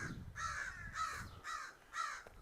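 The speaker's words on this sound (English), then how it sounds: "Crow's having a few words for me up there." A crow caws from overhead on an afternoon creek walk in Regina, four harsh calls evenly spaced about half a second apart, moderately distant and clear, with no talking.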